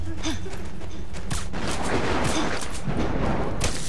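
Gunfire in Metal Gear Solid 4, a dense, steady burst of shots with rumbling booms that holds at a constant loud level for several seconds with no one speaking.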